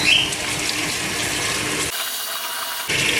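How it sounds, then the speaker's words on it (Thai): Water rushes into a Samsung washing machine as a steady hissing flow, cuts off abruptly for about a second, then resumes. It is close and alone, with no voices. "โอเคน้ำไหลแล้ว"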